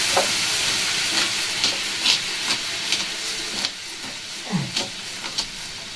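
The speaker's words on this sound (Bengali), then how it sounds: "এটাকে এইভাবেই ঠিক নাড়িয়ে যেতে হবে" A corn flour mixture for laddu is stirred in a pan with water, giving steady hissing and sizzling along with scattered scraping taps of the spoon.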